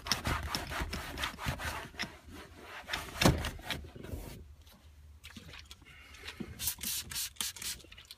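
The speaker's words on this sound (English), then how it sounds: "The microfiber towels are really good for doing this because they're gentle on the leather." Microfiber towel rubbing dressing into leather, close quick back-and-forth scrubbing strokes with a soft gritty texture, a brief lull near the middle, then the rubbing resumes.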